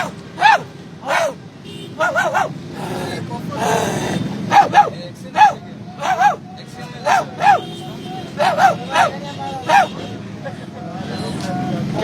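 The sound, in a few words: man imitating a dog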